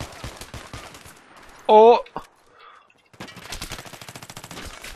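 Automatic gunfire in Battlefield 3 with an MK11 mod, rattling in quick bursts before and after a brief loud tonal in-game cue, while someone talks and exclaims over it.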